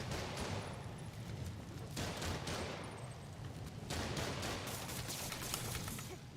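Rapid, dense gunfire crackles without pause through a video game boss fight, with volleys of shots layered over a rumbling background.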